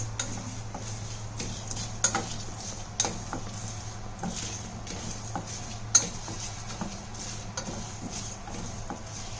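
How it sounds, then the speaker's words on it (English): Jeera and dals dry-roasting in a pan for curry leaf powder, with soft scraping stirs and light ticks of utensil on metal over a low steady hum, faint and close, no talk. "Now it is roasting. You can actually see the jeera roasted also."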